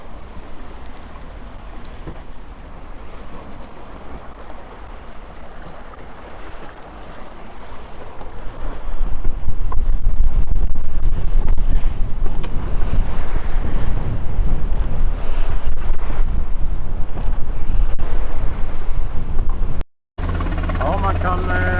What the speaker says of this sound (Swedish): Det blåser väl en 10 meter ungefär.